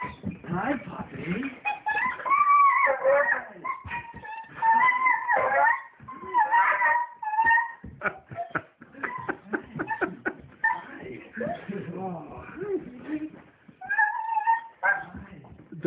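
A dog greets a soldier returning home, letting out high excited whimpers, whines and sharp yips in rapid bursts, close by, with people's voices mixed in.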